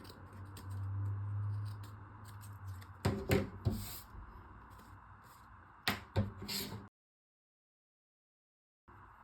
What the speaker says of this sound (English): If there are any uneven edges, you can just trim them off so that they're even.